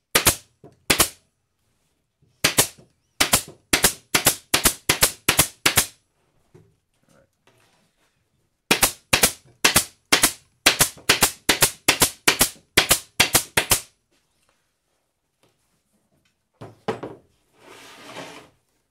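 An upholstery staple gun fires into burlap in rapid sharp snaps, loud and close, with quick runs of shots separated by silent pauses and faint handling noises and rustling toward the end.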